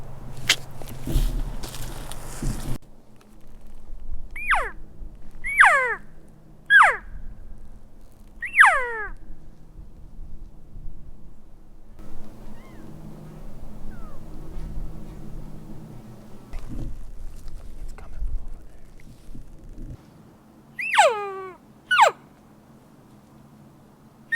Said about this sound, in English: there's a bull bugling across the canyon from us